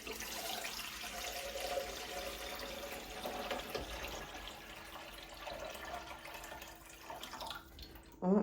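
Tap water running into a kitchen coffee machine's reservoir, a steady close splashing stream that continues throughout, with faint clatter and a louder knock at the very end.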